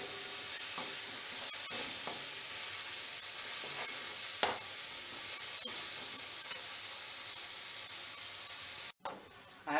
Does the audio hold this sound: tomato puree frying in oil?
yes